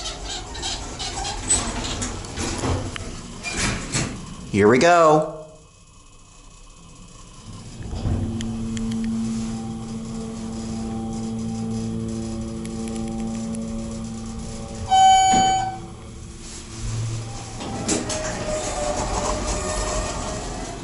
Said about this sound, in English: Now going up, listen to this motor.